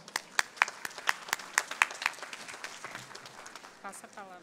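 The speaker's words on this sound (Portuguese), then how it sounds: "eu queria pedir uma salva de palmas" Scattered applause at a business conference panel, a thin group of individual sharp claps that builds briefly and then thins out, close and fairly quiet, with a voice speaking over the final moments.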